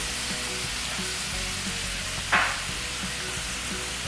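Green chillies and ginger frying in hot oil in a pan for a Kerala spicy crab masala, a steady close sizzle with one brief louder hiss as they hit the pan, no voices.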